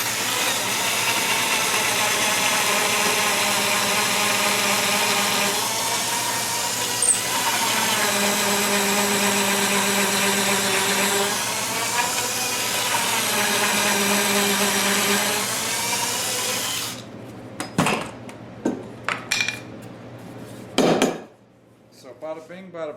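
A power drill bores deep pocket holes into wood for a DIY farmhouse kitchen table, a loud steady whine running continuously for about seventeen seconds, then a few short bursts and knocks.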